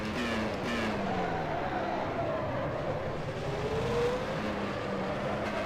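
A Forti Formula 1 car races around Silverstone in rFactor 2, its engine a loud, continuous high whine that rises and falls through gear changes and corners.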